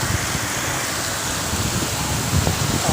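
Heavy rain falls around a lone rider sheltering at dusk, a loud dense steady wash of noise with faint patters and no voices.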